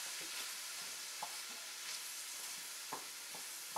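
A flour roux stirred in a pan while it cooks for a wild turkey pot pie, giving soft scraping strokes with faint sizzling underneath. The sound is quiet and close, and no one speaks.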